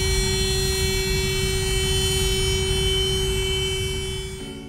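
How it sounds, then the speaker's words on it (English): Canopy closing on a Eurofighter Typhoon FGR-4 multi-role jet: a steady loud electric whine with a constant hum running for several seconds, ending in a soft shift in tone as it seals and fades slightly. "That was the sound of the canopy closing on a multi-role Typhoon FGR-4."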